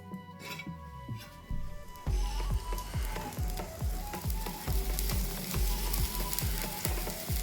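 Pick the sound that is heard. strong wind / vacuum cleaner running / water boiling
water boiling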